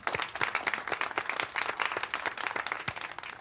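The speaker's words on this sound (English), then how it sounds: "I think that deserves a round of applause." Steady applause from a small courtroom gathering in a drug court session, honoring a woman's GED; dense overlapping hand claps continue evenly throughout without a pause.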